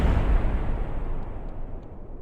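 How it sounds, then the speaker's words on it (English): A rocket blows up in a spaceflight video game, one loud, deep booming blast that rumbles and slowly fades over a couple of seconds, with no talk. "Yes, I like explosions."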